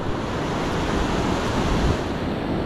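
Ocean surf washing up on a San Diego beach, whitewash rolling in as a steady, loud roar of breaking waves with some wind noise, no voices.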